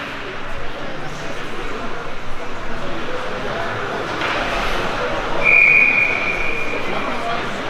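A referee's whistle at a hockey game between the Eagles and Maine shrills briefly once, fairly far off, over steady crowd noise and a commentator's voice.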